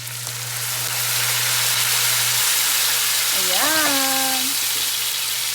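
Vegetables sizzle steadily in a pan after soy sauce goes in for adobo, a constant broad frying hiss throughout, with a brief spoken word near the end.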